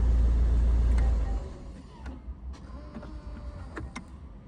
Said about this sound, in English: There you go, it goes back into park by itself